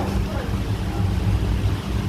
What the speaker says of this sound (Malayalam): ആ വഴിയിലൂടെ വേണം ഈ ബോട്ട് കടന്നു പോകാൻ.